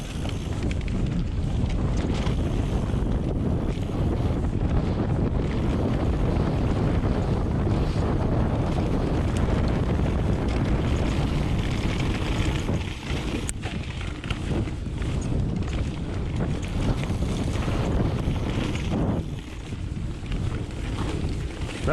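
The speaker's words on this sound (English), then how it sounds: "Very windy today." Strong, steady wind roars and buffets the microphone throughout while mountain biking on a slick trail with berms and hills, broadband rushing noise with gusts and no voices.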